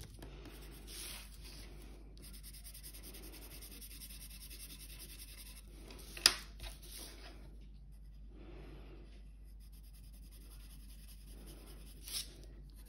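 Quiet, steady rubbing of a coloured pencil shading a fade on paper, soft repeated strokes in bursts with brief pauses, plus one sharp tap midway and another near the end.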